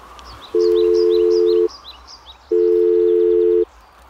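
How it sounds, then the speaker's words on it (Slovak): A telephone rings in two long, steady electronic tones with a short pause between them. Light bird-like chirps sound faintly in the background. "Čo to tu zvoní? Kde mám ten telefón?"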